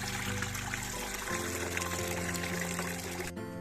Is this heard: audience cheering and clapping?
no